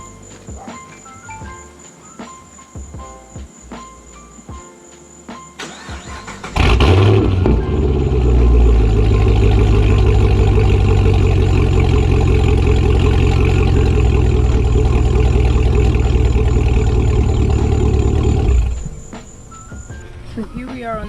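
Chevrolet Camaro engine cranks and catches, then settles into a loud, steady idle that runs for about twelve seconds before shutting off, with crickets chirping around it.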